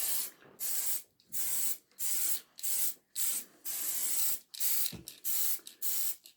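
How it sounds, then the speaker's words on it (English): A can sprays a layering fixative over static grass on model railway scenery in repeated short hissing bursts, about a dozen close bursts separated by brief pauses. "And then just give it a quick going over with the old spray."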